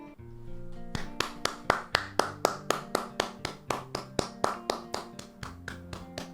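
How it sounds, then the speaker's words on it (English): A single pair of hands gives a slow, steady round of applause, about twenty crisp, evenly spaced claps close up, with no voices. "Round of applause."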